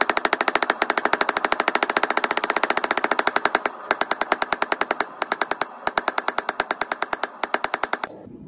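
Rapid, even hammer blows on hot steel at an anvil, struck with a 2-pound hammer for fine detail work on a forged paper towel holder. Loud, close and ringing, in steady runs broken by brief pauses, with no talk.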